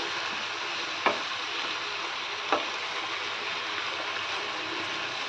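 Chicken for a stew stirs in a pan seasoned with salt and lemon juice, giving a soft, steady sizzle and hiss with two sharp clacks of a spatula against the pan.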